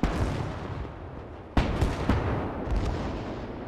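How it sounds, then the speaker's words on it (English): Booming explosions and artillery-like blasts in the video game Gates of Hell, one sharp loud hit midway, over a constant rumbling battlefield din. "we'll see some more explosions here"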